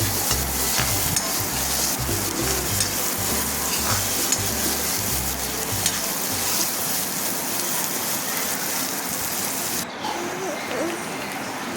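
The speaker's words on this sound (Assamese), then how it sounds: "ৰঙা হোৱালৈকে পিঁয়াজ নহৰুখিনি ভাজি ল'লে হ'ল" Onion and garlic frying in oil in a pan, with a steady, loud sizzle that runs throughout and repeated scraping strokes as the pieces are stirred. The stirring is most active early on.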